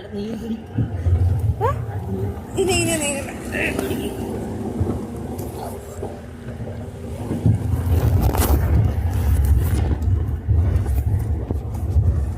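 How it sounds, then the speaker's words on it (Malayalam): A jeep rocks and jolts along a rough mountain road toward Kodachadri, its engine rumbling low and continuous with bumps and rattles, while passengers talk over the noise throughout. "ജീപ്പ് അങ്ങോട്ട് മറിയണു ഇങ്ങോട്ട് മറിയണു, കുലുങ്ങി പോണു."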